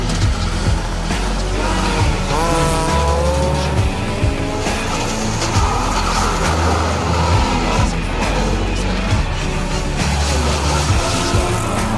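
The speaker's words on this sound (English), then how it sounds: "But here is the Toyota Yaris Rally 2." Toyota Yaris Rally 2 rally car at speed on an asphalt rally stage, engine loud and close with rising and falling revs through gear changes and some tire squeal.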